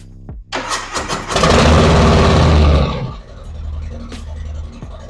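A Harley-Davidson Milwaukee-Eight Softail motorcycle engine cranks and fires up loudly, roaring for a couple of seconds before dropping to a steady, rumbling idle nearby.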